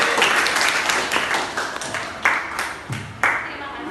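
Students in a school classroom clapping their hands, a burst of scattered claps that thins into a few separate, sharp final claps, with some voices around.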